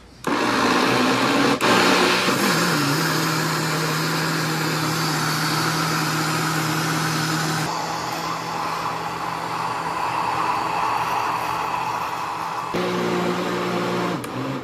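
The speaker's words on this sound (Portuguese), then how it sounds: "Agora eu vou tampar o liquidificador e colocar os ingredientes para bater por 5 minutos." A lidded kitchen blender mixes batter for a raw rice cake, giving a loud, steady motor whir that shifts pitch a few times as the load changes, with no talk over it.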